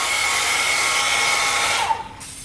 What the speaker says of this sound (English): Using his hair dryer.